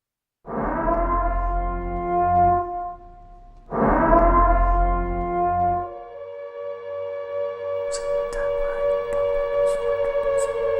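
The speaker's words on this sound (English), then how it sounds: "it's time to listen to people honk their car horns for absolutely no goddamn reason" Two long blasts of a car horn with a harmonic, brassy tone, then a sustained lower horn drone joined by more honks from a distance.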